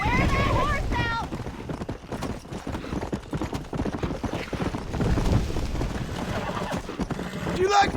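In Red Dead Redemption 2, horse hooves gallop in a fast, steady clip-clop close by, with voices talking over the hoofbeats.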